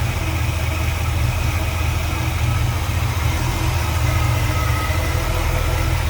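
A 1963 Chevrolet Bel Air two-door post sedan engine idling smoothly, a steady close, low rumble with an even, unbroken drone.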